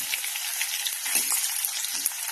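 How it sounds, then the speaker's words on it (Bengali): Potatoes frying in hot oil for khichuri, a steady close sizzle with faint crackles and occasional soft stirring scrapes, no voices. "এখানে আলু ভাজা হচ্ছে"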